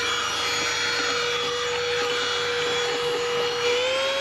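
Small handheld vacuum cleaner running inside a camper van, a loud, continuous whining drone with a steady high-pitched tone that rises slightly near the end, close up and alone.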